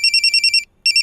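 A bright, high electronic ringtone pulsing in a quick repeating pattern, pausing briefly before starting again; loud and close.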